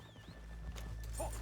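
Horse hooves clip-clopping in the video game Red Dead Redemption 2, a few quiet hoof beats over a low game soundscape with a brief whinny-like tone.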